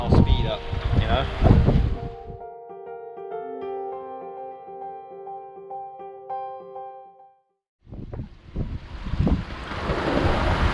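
Wind and waves rush loudly around a sailboat under sail in about 24 knots of wind. The gusty roar drops briefly to near silence mid-clip, where a melodic tonal sound plays, and then the wind noise returns strongly.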